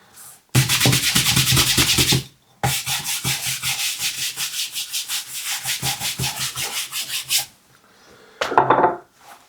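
A brush works finish into leather in quick, rhythmic back-and-forth scrubbing strokes, close and fairly loud. Two long runs of strokes are split by a short pause, and a brief burst of rubbing comes near the end, with no talking.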